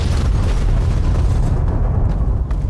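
In the Fallout video game a huge explosion roars as a loud, sustained low-end blast, rumbling for a few seconds and thinning out gradually toward the end.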